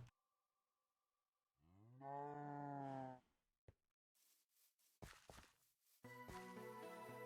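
Cows mooing in Minecraft (GT:NH modpack): a long clear low moo, then several shorter clipped moos and game sound effects following close together, loud and alone without talk.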